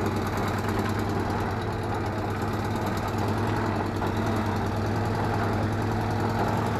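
A Citroën Acadiane van's engine running steadily near the microphone, a continuous low, slightly knocking idle-like rumble with vibration as the van takes its first wheel turn in three years.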